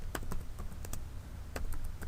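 Quick, uneven keystrokes clack on a computer keyboard as a command is typed to encrypt a password while configuring a network switch. The taps are close and fairly quiet, with short pauses between bursts.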